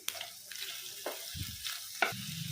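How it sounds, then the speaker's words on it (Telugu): Coconut paste with turmeric, coriander powder and garam masala fries in a pan, with a soft sizzle under repeated scraping strokes of a spoon at roughly half-second intervals and a couple of low thuds. "సో ఇది కూడా దోరగా ఫ్రై చేసుకోవాలి."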